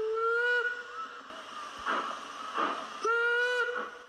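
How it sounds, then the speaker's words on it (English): An Isle of Man steam railway locomotive sounds its whistle twice, long steady blasts over a hissing, chuffing background of the working engine. "The beautifully kept locomotives, with shining brass and polished copper, provide a look back to a bygone age when steam was king"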